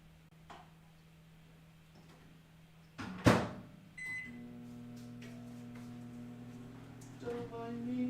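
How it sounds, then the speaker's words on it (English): A household microwave oven heating a giant slice of pizza: a door clunks shut, buttons beep, then the oven starts its steady humming drone with faint ticks and a brief voice partway through. "And toss this in the microwave."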